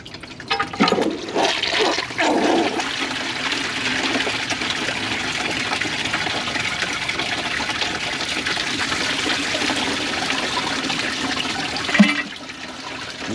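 A Kohler Wellworth Class 5 toilet with a Portrait Lite tank flushes with a loud, sustained rush of gushing water. The water keeps running as the bowl overflows, and a brief surge comes near the end.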